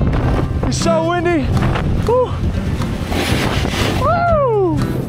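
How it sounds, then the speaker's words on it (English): Strong wind buffets the microphone at a hilltop beside a house, a loud constant roar running throughout, with a person whooping in long rising and falling shouts over it. "It's so windy."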